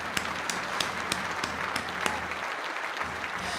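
A small group claps briefly during a livestream about a Silksong metal mod, with rapid, even hand claps over the whole stretch and no voices.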